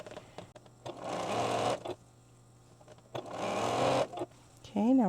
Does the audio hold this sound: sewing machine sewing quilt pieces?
yes